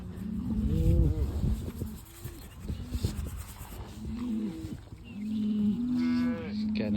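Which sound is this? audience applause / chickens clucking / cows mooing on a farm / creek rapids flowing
cows mooing on a farm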